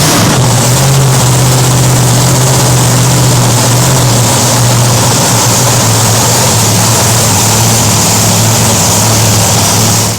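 A monster truck engine runs at a loud, constant idle right up close, a dense droning roar with a steady low hum that holds unchanged until it cuts off at the end.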